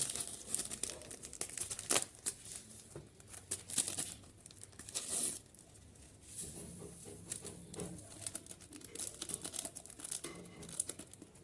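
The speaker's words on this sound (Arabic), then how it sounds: "هناخد معانا كيس زبادي." A plastic bag of yogurt is crinkled and torn open, with steady crackling and sharp tearing rustles running throughout, close and fairly soft.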